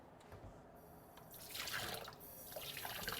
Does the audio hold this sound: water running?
yes